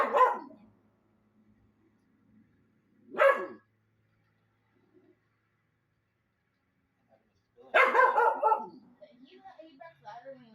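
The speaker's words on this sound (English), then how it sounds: "He barks louder when he wants food than when it's danger." Dog barking indoors in three separate bursts spaced a few seconds apart, close and fairly loud, the last one longer and followed by quieter sounds.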